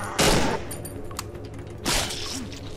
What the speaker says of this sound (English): I believe it was a burst fire machine pistol